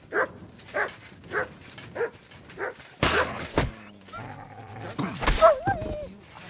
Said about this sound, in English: Good dog, Stand there, Max.